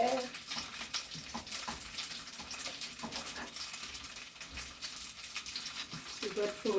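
Breadfruit and dumplings frying in a pan for a Jamaican breakfast, giving a steady, dense sizzle throughout while people talk nearby.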